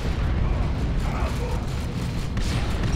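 A Plasma Devastator hit in a Warhammer strategy video game bursts as a loud, dense rumbling explosion that fills the scene with continuous roaring noise.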